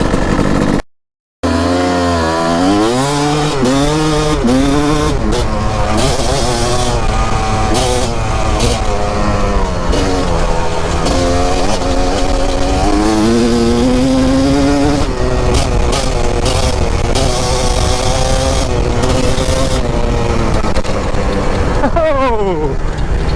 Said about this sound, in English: not used to riding a big bike so much recently, especially a two-stroke